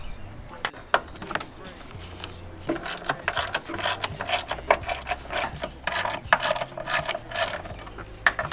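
Ratchet wrench loosening the three strut top bolts on a VW MK7 GTI, a series of quick metallic clicks and clanks in short bursts at close range, with no talking.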